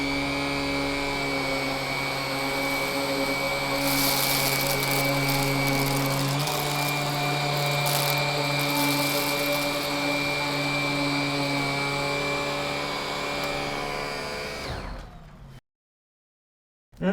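A Cordless Henry vacuum cleaner fitted with a Wessel Werk EBK250 head runs over carpet with a steady, loud whine and motor hum, the pitch wavering slightly before it switches off abruptly into silence.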